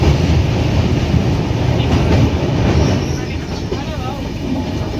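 Kolkata–Sairang Express train crossing the Nasipur rail bridge over the Bhagirathi River near Azimganj Junction, a steady loud rumble of wheels that eases slightly toward the end, with faint voices underneath.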